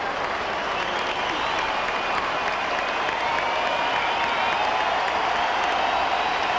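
A big ballpark crowd at an Angels home game against the Blue Jays cheers rookie pitcher Joe Saunders on his major league debut, a loud, sustained roar of clapping and shouting that holds steady throughout.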